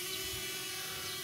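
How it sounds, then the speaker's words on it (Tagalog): A small DJI Flip drone flies close by, a steady high-pitched whining buzz of propellers with a constant tone, loud and unbroken. "Nagsusubok ng drone."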